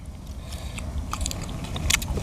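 Teeth bite down on the hard shell of a steamed sea crab, giving dull crunches and scraping cracks over a steady close-miked rustle, with slightly louder snaps toward the end.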